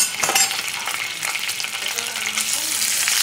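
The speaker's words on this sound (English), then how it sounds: "get the olive oil in there. So much. And first, cook the anchovy." An anchovy fries in a generous pour of olive oil, giving a steady, close, loud sizzle with continuous crackle and no talk.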